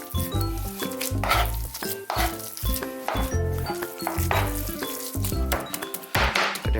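Minced shrimp meat for shrimp meatballs is mixed in a bowl, making dense, rhythmic clattering and scraping that is loud and continuous, with clinks of a utensil against the bowl and no talking.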